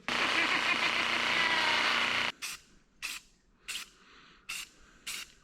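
Satin espresso spray paint hissing onto a 1967 Toyota Stout truck body, first one long continuous burst of just over two seconds, then five short evenly spaced spritzes, close and fairly loud.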